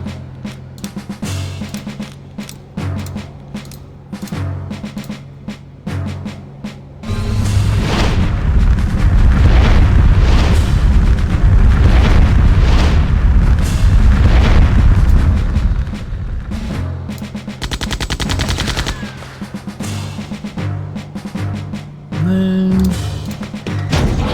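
A rocket punch attack in the game Septerra Core lands as a heavy booming blast that swells into a long, loud roar for several seconds. Repeating game music and thumps play before and after, and a short punchy hit comes near the end.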